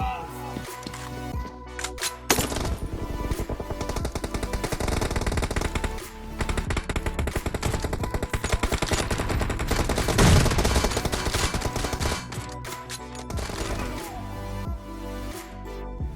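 Gunfire in a mobile shooter game such as PUBG, Free Fire or COD Mobile, loud and continuous, with dense rapid shots and layered game effects running almost the whole time.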